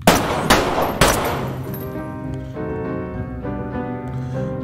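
Gunfire in a video game: three sharp, loud shots about half a second apart, each with a ringing decay, followed by a lingering tonal tail.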